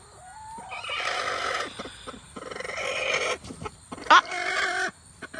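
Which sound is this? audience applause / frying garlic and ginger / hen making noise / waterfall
hen making noise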